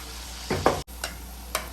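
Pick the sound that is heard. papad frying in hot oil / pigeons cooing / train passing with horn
papad frying in hot oil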